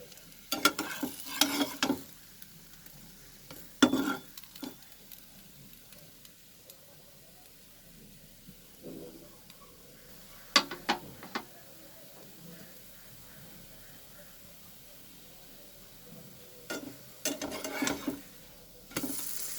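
Milk bread toast fries in butter in a very hot pan, a soft steady sizzle broken by repeated clatters of a utensil against the pan, close by and fairly quiet.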